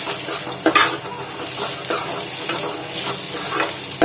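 A spoon scrapes and stirs colocasia (taro root) fry in a hot pan, rhythmic scraping strokes over a continuous loud sizzle of oil, with no one talking.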